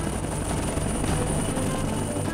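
An AW-159 Wildcat maritime helicopter comes in to land on a moving warship, giving a steady close rotor drone with a high turbine whine, loud and unbroken throughout.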